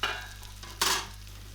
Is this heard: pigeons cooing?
no